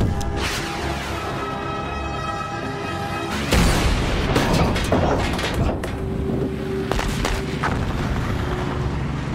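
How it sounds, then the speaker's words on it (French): Film scene of gunfire at a helicopter, heavy continuous rotor and engine roar with a sudden louder impact partway, then scattered sharp shots and crackles over the din. "On nous tire dessus."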